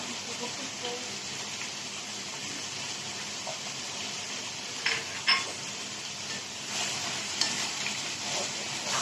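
Cumin and ground black pepper sizzle in a hot frying pan while Iftar dishes are cooked. The hiss is steady and close, with occasional crackles and a stir partway through.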